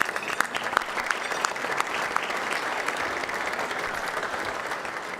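A banquet audience applauds a string quartet at an awards dinner, a dense, steady wash of clapping that stays even and full throughout with no pause.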